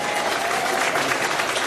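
Steady audience applause fills a town hall in New Hampshire, a dense, even wash of clapping from a crowd that holds at a constant level throughout.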